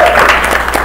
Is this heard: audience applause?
yes